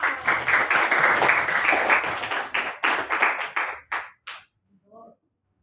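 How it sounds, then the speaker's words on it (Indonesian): A burst of applause and clapping from a group, steady for about four seconds, then breaking into a few scattered claps before fading out. "Wih, tepuk tangan hebat."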